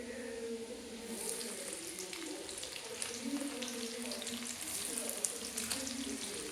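Garlic and ginger, followed by onions, frying in mostly white oil with a little mustard oil for chilli chicken, giving a steady, soft sizzle with faint stirring scrapes throughout.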